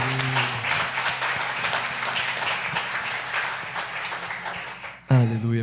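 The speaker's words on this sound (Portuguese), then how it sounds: "Aplausos, Senhor." A Sunday church congregation bursts into sustained applause, dense clapping that runs for about five seconds beneath a faint sung or spoken voice and ends when a voice speaks out loudly.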